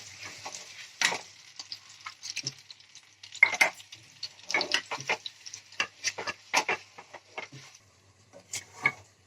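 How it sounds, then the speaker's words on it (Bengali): Apple pieces stirred and fried in hot ghee: a steady sizzle broken by irregular scraping and clicking strokes of a spoon against the pan, close and fairly loud. "এবার আমি আপেলগুলো ঘির মধ্যে একটু নাড়াচাড়া করে জলটাকে শুকিয়ে নেব"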